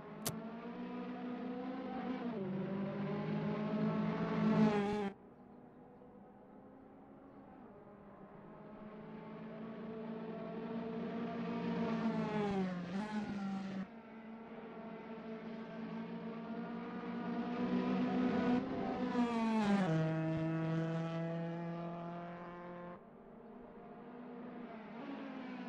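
Onboard engine of a historic racing car lapping Oulton Park, revving hard up through the gears with sharp pitch drops at each shift, loud and close with no voices.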